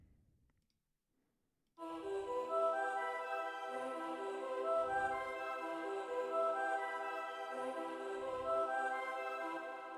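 An arpeggiated choir preset in the Nexus synth, with vocal choir tones rolling in a steady, sustained pattern after a short silence, joined by soft low thumps every few seconds, with no one talking.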